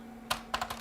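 A few quick, light keystrokes on a computer keyboard, four or five soft clicks in a short burst over a low steady hum.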